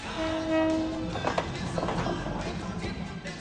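A train sounds its horn as it rolls through a railway market, followed by a steady rumble and rattling wheels nearby, with faint voices in the background.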